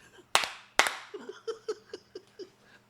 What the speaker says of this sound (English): And that's 2 claps